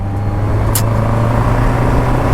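Honda inline-four superbike engine at speed during a Sunday ride, a loud, steady drone with wind rush and one brief sharp transient early on.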